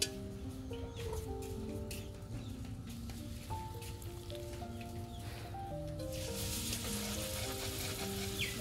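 Saj pitha, a sweet Bengali pastry, frying in hot oil, giving a steady close sizzle that runs throughout under soft background music.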